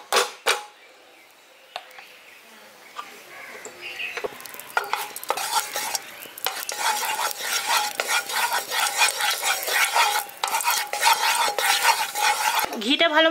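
Ghee melting in a hot kadai sets off a steady, fairly loud sizzle that builds after a few quiet seconds, with scraping and stirring clinks along the way.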